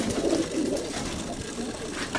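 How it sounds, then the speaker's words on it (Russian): Pigeon cooing close by in low, soft, throaty rolls, a few repeated coos over a faint background hiss. "голубка, голубь."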